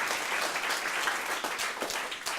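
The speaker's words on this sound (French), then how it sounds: "L'acclamation enta os petitus" Steady applause from a crowd for children who sang at an Occitan heritage show in Besièrs, many hands clapping together continuously and fairly loudly throughout, with no voices standing out.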